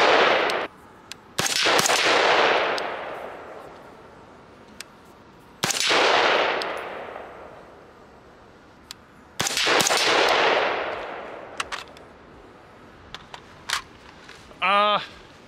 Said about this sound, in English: So some steel down there. Let's shoot a few rounds and see how I like it.